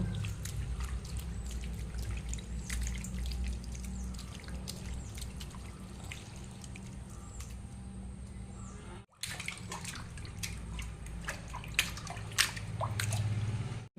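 Water dribbling and dripping steadily over fresh homemade paneer as it is rinsed to wash out the vinegar, a continuous close trickle with a brief break partway through and no talking.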